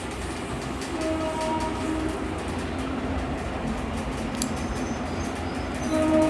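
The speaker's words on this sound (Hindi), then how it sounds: "ट्रेन चल रही," A train runs along the tracks, a steady rolling rumble with faint clatter and a brief higher tone near the end, moderately loud and continuous with no talking.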